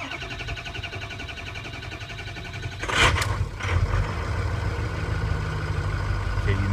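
A Ford 6.0 Powerstroke diesel engine cranking for a long time when cold: a steady, churning starter drone that surges and changes partway through as the engine tries to catch.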